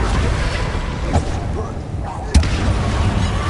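An Incendio fire spell cast in the video game Hogwarts Legacy, a sharp burst with a booming pop at about two and a half seconds, plus a smaller one earlier, over a steady rumbling game background.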